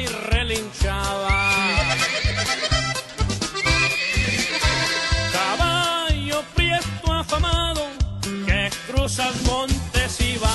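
Horse whinnies rise and fall over loud band music, with a rhythmic clopping beat underneath.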